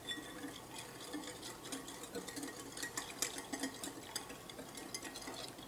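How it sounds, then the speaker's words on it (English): A whisk beats quickly against a bowl of dressing with dried oregano and crushed red pepper flakes, a fast, quiet, rhythmic clicking that runs steadily throughout. "We're going to give this a little whisk first."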